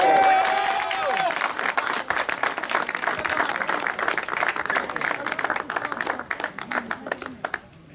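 A crowd at a regional Calabria racing championship final applauds the first-place finisher, dense clapping lasting several seconds, with a voice speaking over the start before the claps thin out and fade.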